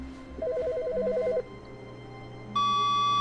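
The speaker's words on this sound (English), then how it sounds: "Now you got a phone ringing again." A telephone rings in the video game The Stanley Parable, a warbling electronic trill lasting about a second, followed after a pause by a steady sustained tone, heard alone without talk.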